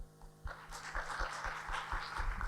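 A conference audience gives the panel a round of applause, soft and somewhat distant clapping that starts after a quiet half second and continues evenly over a low room hum.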